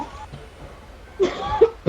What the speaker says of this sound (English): Keep coughing for me.